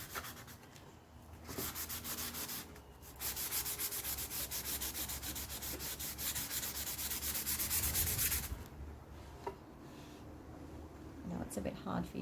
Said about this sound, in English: the harder I sand, the more cream will come through